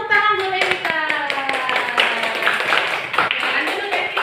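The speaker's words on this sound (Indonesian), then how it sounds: "Oke, tepuk tangan dulu Vita." A classroom of Indonesian-speaking schoolchildren clapping hands together, a brisk patter of claps mixed with children's voices and singing-like chatter, close and lively.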